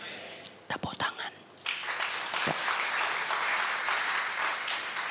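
Congregation applause in a church during a sermon, a few sharp claps at first, then a broad sustained wash of clapping from many hands filling the room, fairly close and steady.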